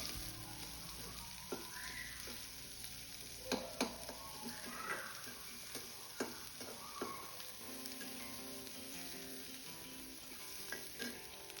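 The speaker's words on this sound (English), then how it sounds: "onions and green chili. Stir continuously until onions to change to transparent." Chopped onions and green chili fry in a pan with a constant soft sizzle, while a spoon stirs and scrapes in scattered taps and clinks up close.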